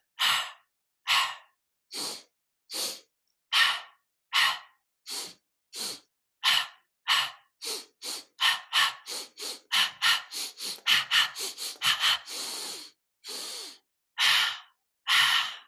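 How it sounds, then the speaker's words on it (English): Paired nasal inhales followed by paired mouth exhales during breathwork practice, repeated as loud, close, rhythmic breath bursts that quicken and crowd together midway before slowing again, with no talking. "the way we approach this breath is a 2-part inhale followed by a 2-part exhale, with 2 inhales through the nose, 2 exhales through the mouth"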